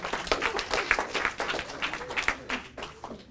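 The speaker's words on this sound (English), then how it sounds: "But round of applause for Ken." Applause for Ken at a business talk on delegation, a brief, fairly faint burst of scattered clapping from the audience, uneven and thinning toward the end.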